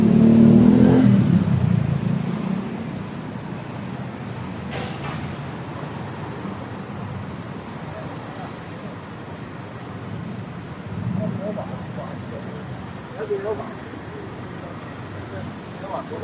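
City street traffic with cars passing and an engine revving loudly up close at the start, then a constant roadway drone with faint clatter and occasional swells as vehicles go by.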